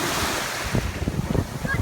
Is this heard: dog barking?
no